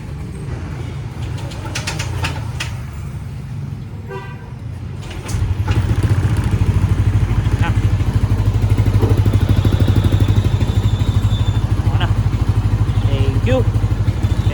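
Yamaha Aerox 196cc scooter engine running on racing oil starts up partway through, settling into a loud steady idle close by after quieter handling noises, with a few brief horn-like tones.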